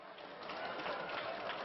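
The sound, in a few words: audience clapping hands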